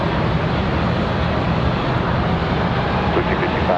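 Airliner taking off at Charlotte Douglas airport, a steady broadband engine roar filling the clip at constant loudness with no clear rise or fall, while a faint tower radio voice talks underneath.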